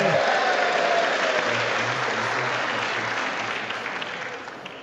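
An audience at a State of the Union address bursts into sustained applause, a dense wash of clapping that slowly fades.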